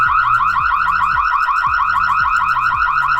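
Siren from a wireless outdoor security camera, a loud continuous electronic alarm with a rapid warbling tone and repeating sweeps, sounding alone without any talk.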